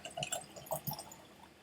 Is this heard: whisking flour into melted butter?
no